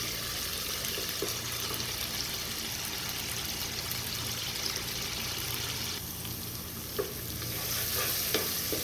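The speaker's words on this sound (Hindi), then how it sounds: "टमाटर हम इतना पकाएंगे कि गल जाए टमाटर अच्छे से" Tomatoes cook down in a pan for a restaurant-style biryani, a steady sizzle and simmer with occasional stirring scrapes and a few soft clinks, close and continuous.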